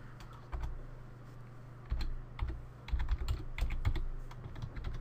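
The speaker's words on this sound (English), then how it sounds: "I'm going to type replace." Keystrokes on a computer keyboard, close and clear, come in short irregular bursts of clicks with brief pauses between them over a low steady hum.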